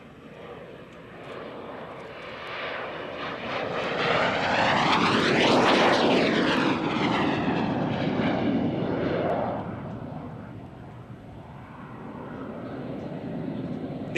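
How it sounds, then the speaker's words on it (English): A 1954 Coventry-built Hawker Sea Hawk jet makes a pass at the Kemble airshow. A loud engine roar swells as the aircraft approaches, peaks overhead with a sweeping pitch shift, then fades away as it departs. "This Seahawk is the only one still flying anywhere in the world."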